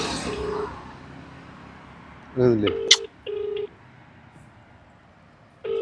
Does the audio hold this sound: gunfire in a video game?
no